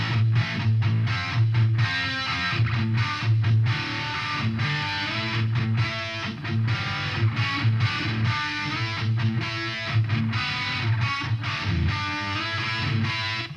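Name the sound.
guitar with EQ, chorus, delay and reverb effects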